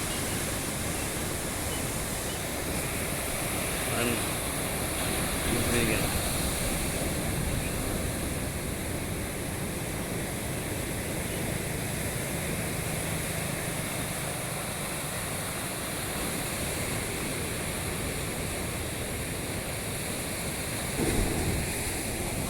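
Ocean surf rolls continuously onto Nintavur beach in the morning, a steady broad wash of breaking waves with little variation, heard alone.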